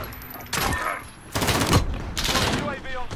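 Rapid bursts of PP-Bizon submachine gun fire in a video game, several loud volleys with short pauses between them, mixed with other battlefield noise.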